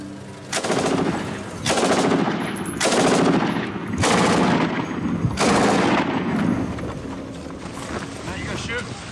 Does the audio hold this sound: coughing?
no